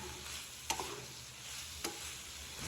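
A spoon stirs meal maker tomato curry in a pan over low heat, giving two soft scraping clinks over a faint steady sizzle and bubbling, with nobody talking.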